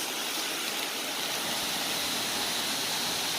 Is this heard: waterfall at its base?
yes